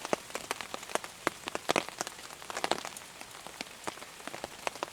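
Rain patters onto a taut tarp at an outdoor camp, a steady scatter of close, crisp drop impacts with occasional louder taps and no voices.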